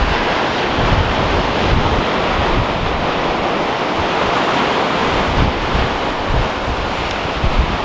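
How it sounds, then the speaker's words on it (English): Rolling ocean surf breaks steadily on a beach below the cliffs at Hordle, with wind buffeting the microphone throughout and no voices, the wash of the waves loud and continuous. "Now that we've looked at the surf."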